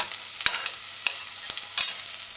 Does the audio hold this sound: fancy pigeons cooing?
no